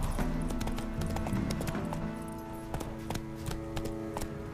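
A horse gallops in The Witcher 3, its hooves clip-clopping in a quick, steady rhythm over game ambience, loud and close for the whole stretch.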